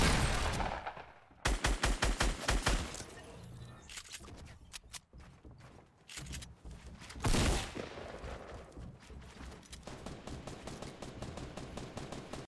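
Gunfire from the Fortnite video game: a quick burst of several loud shots, a pause, then another heavy blast with scattered smaller shots and impacts continuing throughout, without talk.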